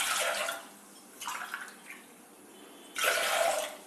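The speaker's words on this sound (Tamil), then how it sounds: "குக்கரில் 5 பங்கு தண்ணி ஊற்றிடுறேன்" Water pours in bursts into a pressure cooker for rice and fenugreek garlic porridge, two loud splashing pours with a softer trickle between them, close up and with no talking.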